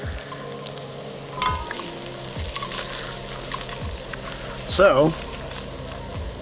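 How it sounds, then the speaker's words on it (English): A sausage sizzles in a pan on a single-burner camp stove, a steady close crackle and hiss running throughout with a brief louder flare near the end, under someone speaking. "So, the sausage is cooking up really nice"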